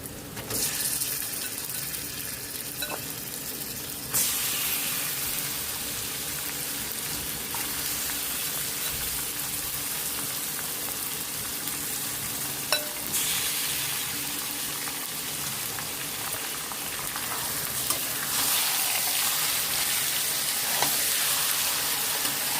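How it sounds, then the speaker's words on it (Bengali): Marinated chicken sizzles and fries with onions in a pan, a loud continuous crackling hiss close by with occasional stirring clinks, no talk. "পেঁয়াজটাকে ভালো করে ভেজে দিয়ে এখন দিয়ে দিচ্ছি ম্যারিনেট করা চিকেন"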